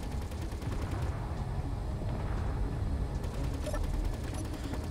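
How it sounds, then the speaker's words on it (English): Rapid bursts of gunfire crackle steadily throughout in the video game Space Engineers, dense and continuous at moderate loudness, with no talking. "Oh, more gunfire, more gunfire."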